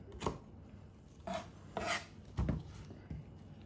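A knife slices through the end piece of an onion on a cutting board, giving several separate crisp cuts at an uneven pace. They are close and moderately loud, with no talking.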